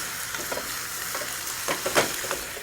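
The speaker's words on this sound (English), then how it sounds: "Now saute your carrots in the spicy glaze for about 3 to 4 minutes." Carrots sauté in a spicy honey glaze in a pan, a continuous soft sizzle broken by the scrape and clatter of stirring.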